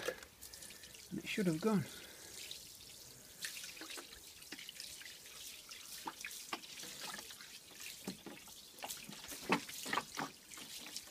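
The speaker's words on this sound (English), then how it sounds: "let's just rinse away with the water" Water poured from a tap rinses cleaner off an oil stain on a concrete driveway, with dripping, splashing trickles through the clip under brief talk and some scattered clicks.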